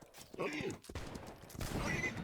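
Horse neighing in the Napoleonic-era online battle game Holdfast: Nations At War, a loud close whinny with hoof clatter and a second neigh later, over busy game noise and distant gunfire.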